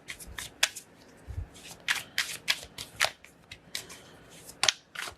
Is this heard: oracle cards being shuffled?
yes